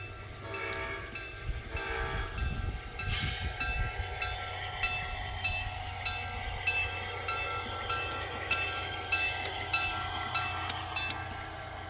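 A Western Maryland Railroad model train layout runs steadily for about twelve seconds, with a continuous rumbling, horn-like tones and scattered high clicks from the track at moderate level, no talking.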